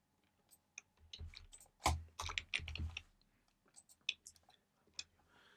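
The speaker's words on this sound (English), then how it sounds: "I'm just going to do some typing and we'll break it down." Fingers type on a computer keyboard in irregular runs of crisp, close clicks, with a dense flurry in the middle and scattered single keystrokes toward the end, with no talking.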